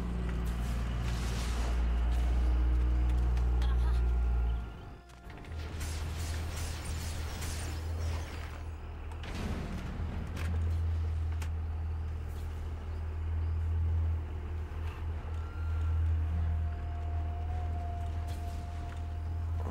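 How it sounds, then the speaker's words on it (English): Heavy trucks rumble past outside, a loud low drone that swells and fades with a brief dip partway through, steady and continuous with almost no talk. "More noisy trucks."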